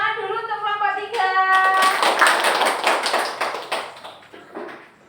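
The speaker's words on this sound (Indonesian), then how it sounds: "Tepuk tangan dulu untuk kelompok 3." Classmates in a school classroom clap for a student group after a presentation, a burst of hand claps swelling over lingering talk and a voice, then thinning out toward the end.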